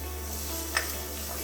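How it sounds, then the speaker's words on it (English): Onions fry in a pan with a steady soft sizzle throughout, and a brief stirring scrape comes midway, with no talk. "Onions are frying."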